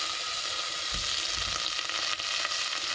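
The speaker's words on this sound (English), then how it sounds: "a couple tablespoons of butter on a hot pan" Butter sizzling on a hot pan, a dense, continuous hiss close up with a faint low rumble underneath and no talk.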